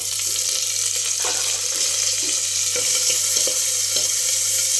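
Garlic, small shallots and tomatoes sauté in a pan, a steady close hiss and sizzle with occasional soft stirring clicks and no talking.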